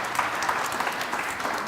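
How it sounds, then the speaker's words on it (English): Audience applause at a public forum on opioids, a dense, steady wash of many hands clapping at moderate level, continuous throughout without a clear break. "How about another round of applause for yourselves?"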